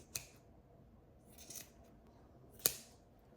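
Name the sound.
scissors trimming macramé coaster cord ends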